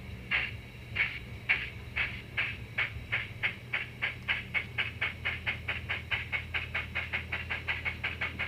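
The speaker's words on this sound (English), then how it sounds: "Alright, let's activate the sound on this locomotive." A small Bachmann Baldwin Class 10-12-D model locomotive gives out rhythmic steam chuffs through its sound decoder. The chuffs start slowly and speed up into a steady, quick beat over a low hum, with no talk.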